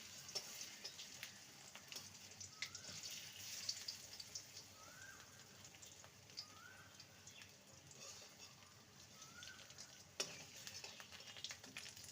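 Ridge gourd fritters fry over a medium-low flame with a faint, steady sizzle and scattered pops of oil, soft and continuous with occasional stirring.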